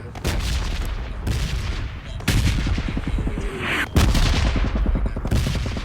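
Gunfire in the battle royale game PUBG, with sharp shots and rapid bursts cracking repeatedly over several seconds, fairly loud against a busy game background.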